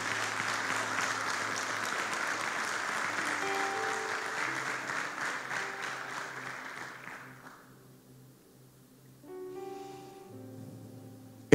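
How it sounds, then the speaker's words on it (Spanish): A church congregation at a men's service claps in a sustained round of applause that fades out after about seven seconds, followed by soft sustained keyboard tones. "3, un fuerte aplauso a estos hermanos."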